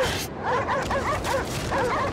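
Dogs bark and yip in the video game Cryostasis, a cluster of short barks and whines at moderate distance over a steady rumbling ambient bed, coming in several bursts.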